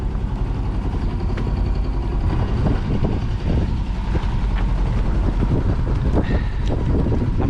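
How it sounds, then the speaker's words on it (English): A sailboat motors into the wind on the Potomac River, its engine droning steadily under continuous wind buffeting on the microphone, loud and close throughout. "So we're motoring into the wind right now."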